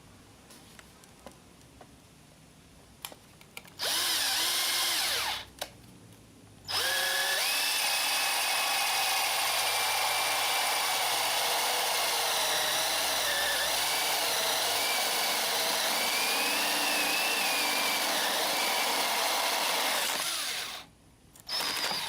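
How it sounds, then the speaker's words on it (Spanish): A cordless drill-driver bores with a 25 mm wood bit, giving a short high-pitched whir, then a long continuous loud grinding drone that cuts off near the end. "Trabajaremos con una broca para madera de 25 milímetros."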